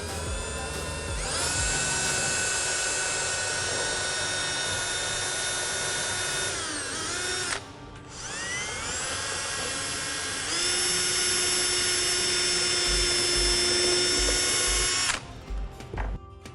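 A power drill whirs steadily for long stretches, pitch dipping briefly as it bites, with a short pause in the middle; 1.5-inch screws driven into wood for a spice rack.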